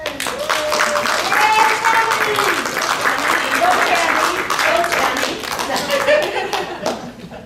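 Applause and cheering fill a room at a Toastmasters district awards celebration, steady clapping with whoops and voices mixed in, while people talk over it.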